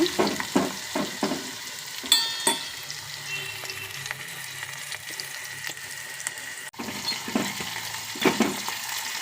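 Mannery fish fries in a pan, a steady sizzle broken by repeated scraping knocks of a spoon stirring the pieces, close and moderately loud with no talking.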